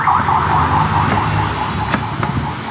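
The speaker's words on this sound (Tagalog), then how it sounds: "Daming ambulansya dumadaan dito sa amin mga idol." A steady wailing siren in the distance, as from an ambulance, over road noise with a few faint clicks.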